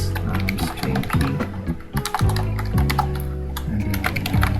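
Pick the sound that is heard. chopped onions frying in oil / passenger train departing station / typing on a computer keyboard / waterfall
typing on a computer keyboard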